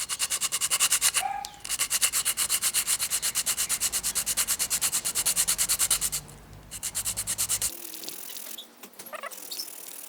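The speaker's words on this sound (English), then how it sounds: "And then we'll just sand it." Sanding by hand: rapid, regular back-and-forth scratchy strokes up close, broken by short pauses before a quieter final stretch.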